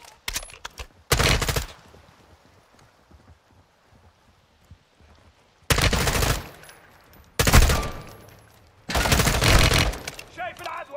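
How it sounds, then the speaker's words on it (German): Gunfire in Call of Duty: Modern Warfare II comes as four loud, dense bursts of shots, separated by quieter stretches of ambient game noise. "Schäfer, du hast geschossen!"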